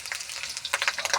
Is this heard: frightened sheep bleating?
no